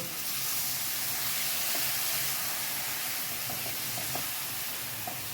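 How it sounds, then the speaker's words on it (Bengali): A spice paste with a little added water is sautéed in a pan for a fish curry, giving a continuous close sizzle and steamy hiss with occasional soft scraping knocks and no talking. "এবারে সামান্য একটু জল দিয়ে মশলাটাকে ভালো করে কষিয়ে নেব"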